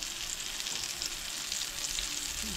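Mackerel cutlets made with boiled mackerel frying in a pan, a steady, even sizzle with a bright hiss throughout, fairly quiet and without talking.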